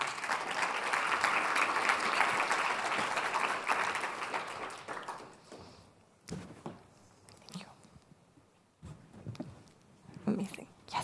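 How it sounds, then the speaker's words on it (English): A conference audience at a young scientists' forum on EU climate and health gives loud, dense applause as six speakers are invited on stage; it fades out after about five seconds, leaving scattered shuffling, footsteps and a few isolated claps. "a big round of applause as well"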